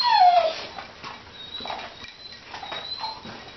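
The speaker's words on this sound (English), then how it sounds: "There's the little puppies now" Small red and blue puppies whimper and yip in short, thin, high cries scattered across the moment, close by and fairly loud, with no voices heard.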